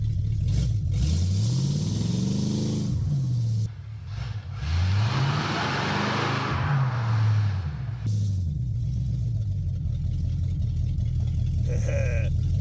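A 1973 Chevy Chevelle engine running in first gear, loud and close, rising and falling through repeated revs with a rough, throaty rumble and brief dips between pulls.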